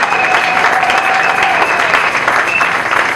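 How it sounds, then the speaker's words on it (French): A congregation applauding at a church service: dense, steady clapping from a crowd that fills the whole moment, loud and close, with a faint voice or tone carrying through underneath. "Ils méritent nos applaudissements."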